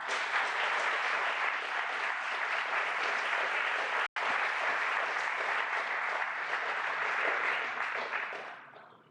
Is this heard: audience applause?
yes